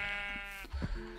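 A sheep in the modded video game Minecraft lets out a single wavering bleat, close and clear, fading after about half a second into a few soft low thuds of game movement.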